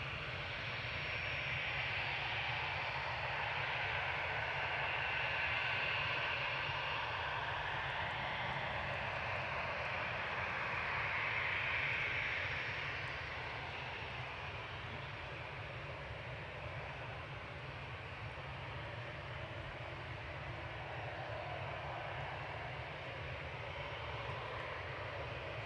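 A Ryanair Boeing 737-800 touches down at Manchester Airport, heard as a faint, distant engine roar and low rumble that swells slightly in the first half and then settles into a steady hum.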